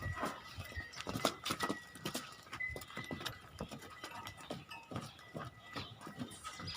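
A Neeli buffalo walks nearby, its hooves thudding in an uneven, continuous series of clops over a faint outdoor background.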